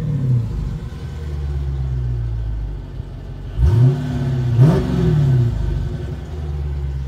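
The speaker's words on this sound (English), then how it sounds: "Do a couple more revs for you guys." A brand-new Dodge Charger R/T Scat Pack idles with a deep rumbling burble, then its V8 is revved twice in quick succession, each rev rising and falling sharply before settling back to idle, close and loud.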